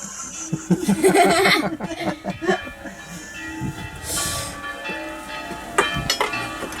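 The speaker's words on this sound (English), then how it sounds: "the church is ringing their bells at the same moment" Church bells in Seville ring out in overlapping peals at Easter against a busy background of clatter and faint voices.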